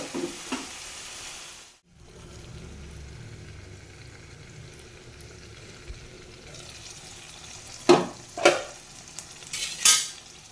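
Food fries in oil in a pot with a steady soft sizzle, broken by a few sharp clinks and scrapes of a stirring utensil toward the end.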